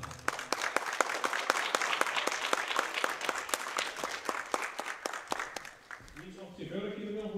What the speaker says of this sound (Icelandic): Gefið gott klapp.